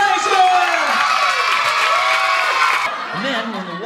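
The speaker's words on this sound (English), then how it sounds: "Clapping, cheering, yelling, screaming, happiness!" Live children's science show audience clapping, cheering and whooping, a loud sustained crowd roar that tapers off near the end, with a presenter's voice over it.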